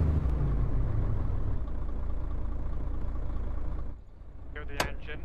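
Heavy truck engine in a video game rumbles loudly and steadily through most of the stretch, easing off briefly near the end, with short clattering sounds over it.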